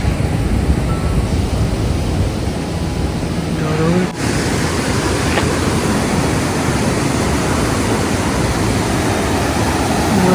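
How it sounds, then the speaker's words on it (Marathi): Rushing river water at a riverside fishing spot in rainy weather, heard as a loud, steady, close broadband roar that runs unbroken for the whole stretch, with only a brief dip partway through. "मस्त पाण्याचा पण आवाज मस्त एकदम येतो पाण्याचा आवाज"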